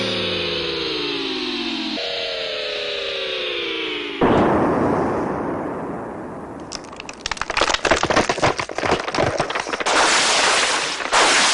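Cartoon weapon firing: a rising whine gives way at about four seconds to a loud blast, followed by a long series of crackling bursts and pops, with no voices.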